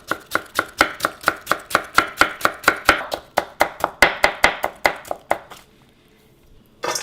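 A knife chops radish into matchsticks for kimchi on a cutting board, with rapid, even, crisp strokes that stop briefly near the end before one final cut.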